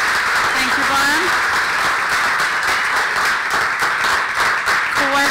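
Audience clapping at a startup competition conference fills the clip, with a voice speaking briefly over it near the start and again at the end.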